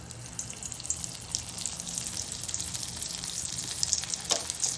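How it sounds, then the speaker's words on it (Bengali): A small chickpea-dal dough ball frying in hot oil, giving a steady bright hiss and bubbling sizzle with faint crackles, close and continuous, no voices. "এই বলটাকে আমি তেলের মধ্যে দিয়ে দেখবো যে এটা ফাটছে কিনা"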